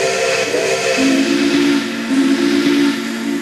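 A steam locomotive whistle sounds in the Trainz simulator, a loud sustained tone that shifts pitch and then holds in long blasts over a background hiss.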